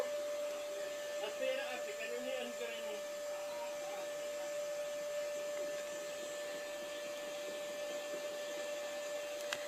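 A vacuum cleaner running at a distance, a faint, steady motor drone with a sustained whining tone that holds unchanged throughout.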